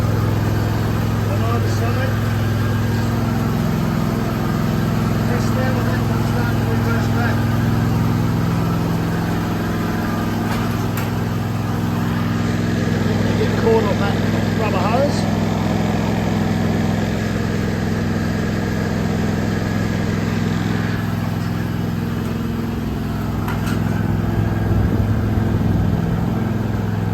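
A ride-on lawn mower's engine runs steadily near the listener, warming up at a constant speed with a low, even drone throughout.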